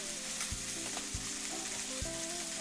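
Chicken pan-roasting in a skillet gives a steady, loud, close sizzle of hot fat, broken by a few dull thuds and knocks from the pan, with no voices.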